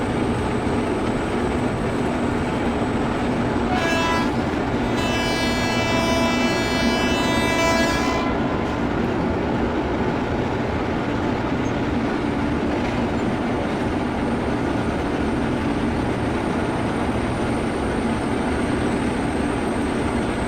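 Sabari Express 17230 rolls along in Train Simulator with a constant loud rumble of wheels on track, broken by a long two-tone horn blast early on.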